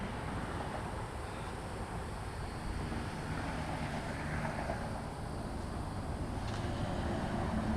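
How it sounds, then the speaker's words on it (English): Continuous road traffic rumble beside a jonboat, a broad steady wash of passing vehicles at a distance, faint and unbroken with no talk. "sorry for the traffic noise"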